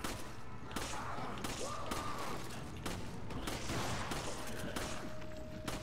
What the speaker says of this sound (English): The shotgun also works.